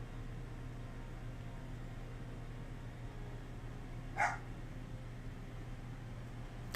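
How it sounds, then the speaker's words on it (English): A single short dog bark sounds at a moderate distance in a home, rising once above a steady electrical hum and background noise and then fading back into it. "He's barking again. Well, I'm gonna see what my dog wants now."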